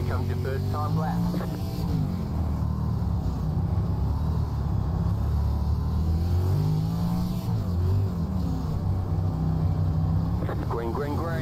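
A 305 sprint car engine in iRacing drones and revs steadily on a dirt oval at the Chili Bowl, its pitch rising and falling with throttle through the laps while someone talks over it throughout.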